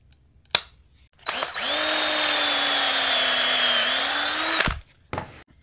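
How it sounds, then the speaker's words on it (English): A power drill bores a pocket hole through pallet wood held in a jig: a couple of sharp clicks, then a loud, steady motor whine for about three seconds that cuts off abruptly, followed by a faint knock. "Once you drill that first hole, just go ahead and move your jig over"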